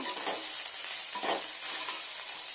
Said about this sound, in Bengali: ফ্রাই ফ্রাই ফ্রাই সব ফ্রাই